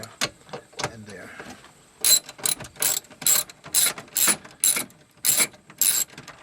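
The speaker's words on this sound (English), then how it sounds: "reaching down with the wrench to loosen those two bolts" A wrench loosening two 12mm battery pack bolts on an Insight, heard as about ten sharp, close ratchet clicks in a steady rhythm after a quieter stretch of faint handling noise.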